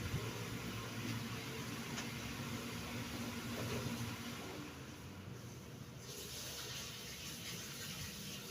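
Tap water running steadily while chili peppers are rinsed, a quiet continuous hiss and splash that shifts slightly partway through, heard alone.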